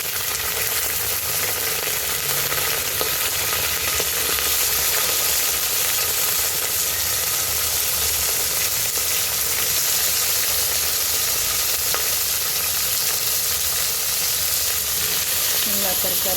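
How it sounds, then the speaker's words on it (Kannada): Mixed vegetables with curry leaves fry in a pan for a vegetable sambar, giving a loud, steady, dense sizzle that continues without a break from start to finish, close up. "ಎಲ್ಲ ತರಕಾರಿ ಹಾಕಿ ಸ್ವಲ್ಪ ಫ್ರೈ ಮಾಡಬೇಕು."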